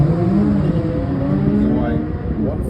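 An Audi S3 launches hard down the Santa Pod drag strip, its engine roaring loud and steady with a rising note over a broad rumble of nearby crowd and track noise.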